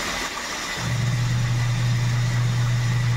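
Washing machine motor with a loose belt, overloaded with clothes, hums steadily at a low pitch from close by, starting up after a brief pause and then running continuously with no talk.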